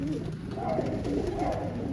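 Domestic pigeons coo softly and continuously at close range, a low murmuring burble with no other sounds over it.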